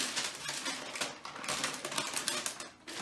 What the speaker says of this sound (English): as long as she's good and dry, she's peeling right off